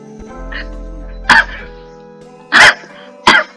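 Three sharp coughs at close range, spaced unevenly over a few seconds, with a quiet background hum between them.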